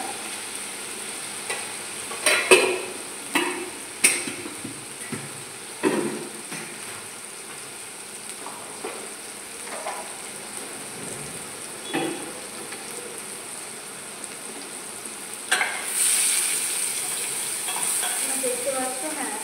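Turmeric and Kashmiri chilli frying in oil for egg biryani, a steady soft sizzle broken by louder scraping stirs near the start and a burst of stronger sizzling toward the end.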